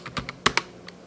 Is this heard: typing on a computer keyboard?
yes